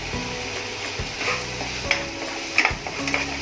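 Spiced chole masala with black pepper and coriander is stirred and fried in a pan, a close hiss of sizzling oil broken by repeated scraping strokes and clinks of the spoon.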